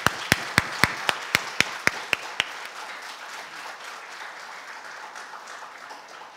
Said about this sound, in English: please join me in giving our guest speaker of the evening the best of cordial welcome with a big round of applause